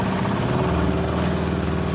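A sailboat's outboard engine catches on the first pull and runs at a steady, close idle, a continuous droning hum with no voices.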